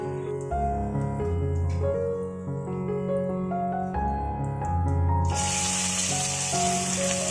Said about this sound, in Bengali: কড়াইতে সর্ষের তেল দিয়ে কিছুটা গোটা ধনে আর গোটা শুকনো লঙ্কা কয়েকটা দিয়ে ফোড়নে ভাজা ভাজা করে নিতে হবে